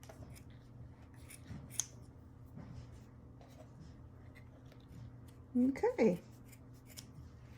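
Scissors snip craft material for a spring Easter farmhouse door hanger, a few quiet cuts early and then a louder cluster of close snips near the end, with a voice speaking briefly.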